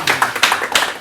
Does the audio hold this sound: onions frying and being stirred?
no